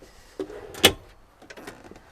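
Drawers in a 2023 Winnebago Solis 59P camper van are opened, giving a soft thud followed by one sharp clack and a few fainter clicks and slides, close up and quiet, with no voices.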